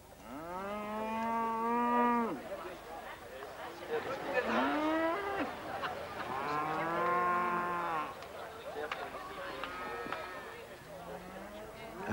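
Cattle moo repeatedly at a cattle show on the Isle of Arran, several long, loud lowing calls one after another, with a crowd's chatter murmuring in the background.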